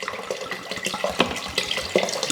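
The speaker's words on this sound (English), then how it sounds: "You can just pour in half your bottle of wine and you're gonna eyeball it" Wine is poured from a bottle into an Instant Pot for braised short ribs, making a steady glugging, splashing stream that sounds close and fairly loud for a couple of seconds.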